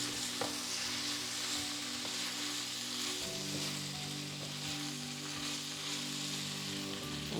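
Chorizo frying in a pan in a Spanish home kitchen, a faint steady sizzle with occasional stirring clicks and a low background hum, no talking.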